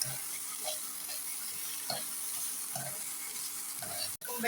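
Purple cabbage thoran with chili powder cooks uncovered in a pan, giving a soft, steady sizzle with faint stirring scrapes throughout, fairly quiet and close.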